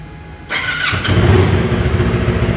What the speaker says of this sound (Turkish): Şimdi hemen üstündeyken motorun sesini önce size normal egzozla dinleteceğim.